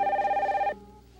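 A telephone bell rings loudly in a short burst of steady trilling, then cuts off abruptly, leaving quiet room tone.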